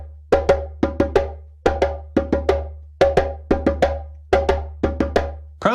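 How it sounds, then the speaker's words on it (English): A clicky percussion rhythm repeats in tight bursts of three to four sharp hits, each group evenly spaced, crisp and close with a low drone beneath. "we're going to be looking at what's called the passport rhythm,"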